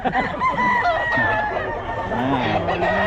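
Chickens cluck and crow amid a busy background of people chattering, the birds' calls rising repeatedly over the steady hubbub.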